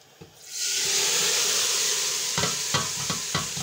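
Hot tempering hits a pot with a sudden loud sizzle that settles into steady frying hiss, with a few clinks of a spoon stirring near the end.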